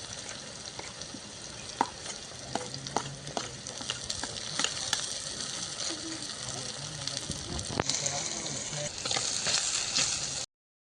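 Onion tossed into hot oil already tempered with cumin seeds, whole spices, dried red chillies and asafoetida, sizzling and crackling steadily with occasional stirring knocks and scrapes, close up, growing a little louder before cutting off abruptly.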